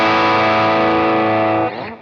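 An electric guitar runs through a Morning Glory overdrive stacked with an Archer overdrive, giving a thick, saturated sustained chord that rings loud and steady before a brief change near the end.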